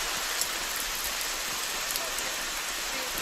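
Strong rain falls steadily outdoors at a para trap shooting world championship final, a dense, even hiss of close, heavy downpour with no pauses and no voices.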